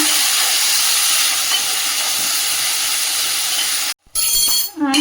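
Gongura leaves and tomatoes frying in a pan give a steady, loud sizzling hiss that runs unbroken for several seconds, cuts out for a moment, then resumes with a brief clink.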